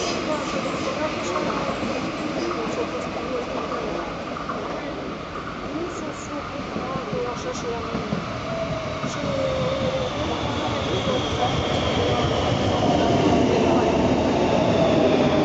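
FGC Metro del Vallès commuter train of Ferrocarrils de la Generalitat de Catalunya at a station platform, a steady loud rumble of the train running with faint squeals and a rising whine toward the end, under station noise.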